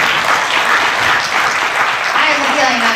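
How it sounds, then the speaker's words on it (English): Loud, close applause fills the room at a county chamber of commerce breakfast, with busy, steady clapping and some voices underneath. "we can clap for that"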